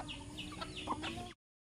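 A native chicken clucking close by in a yard, a few short throaty clucks and squawks over a constant background hum, ending abruptly.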